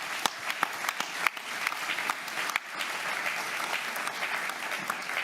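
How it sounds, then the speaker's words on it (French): An audience at an award announcement applauds, with a few sharp individual claps standing out at first before settling into steady, moderately loud clapping throughout. "On peut l'applaudir."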